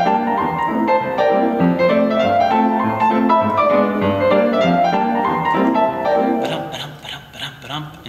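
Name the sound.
piano playing a stride tune with stride swing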